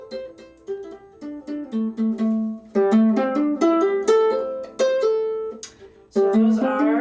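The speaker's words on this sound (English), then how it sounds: "So those are hammer-ons." Ukulele hammer-ons played without plucking, a string of clear, close melodic notes sounding alone in quick runs, with a brighter, busier passage in the middle and a short chord-like flourish at the end.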